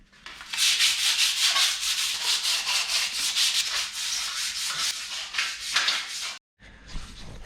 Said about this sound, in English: the reason I'm kind of giving it a light scuff up, like this is going to come off really easy